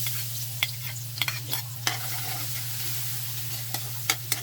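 Garlic frying in cooking oil for adobo, a steady close sizzle with a constant low hum underneath and scattered sharp clicks of stirring.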